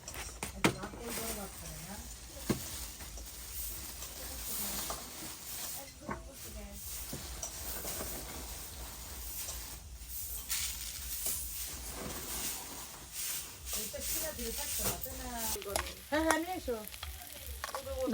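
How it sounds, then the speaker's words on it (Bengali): Greens and potatoes fry in a pan with a steady sizzle and occasional stirring, running throughout under a voice and other people talking at home. "শাক ভাজি, আলু ভাজি,"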